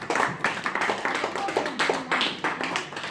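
A church congregation claps together in a steady, close patter of hand claps that runs throughout, with faint voices mixed underneath.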